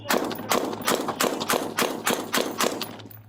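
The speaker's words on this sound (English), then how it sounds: "Shots fired, he's shooting." A rapid string of about a dozen sharp gunshots rings out during a police confrontation, evenly spaced cracks over a low steady hum, fairly close.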